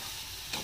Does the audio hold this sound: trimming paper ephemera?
no